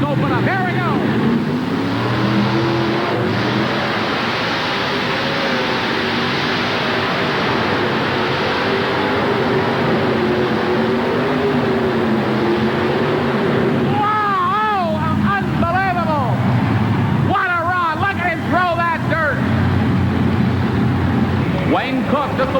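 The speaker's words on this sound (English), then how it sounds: "Watch his hand on the throttle. He'll bury that throttle." A pulling tractor powered by an Allison V12 fighter plane engine roars loud and continuous at full throttle at a tractor pull. A voice rises over the engine noise near the end.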